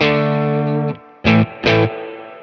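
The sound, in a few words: electric guitar with slight overdrive breakup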